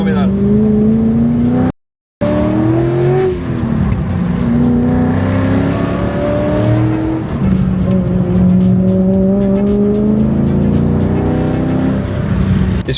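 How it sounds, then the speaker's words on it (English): Porsche 928 climbing a hillclimb course with a passenger aboard, its engine revving up and down through rising gear pulls, tires squealing in bursts, loud and close from inside, with talk underneath. "I was lucky enough to get a passenger lap up the hill in the stunning Nardon 928"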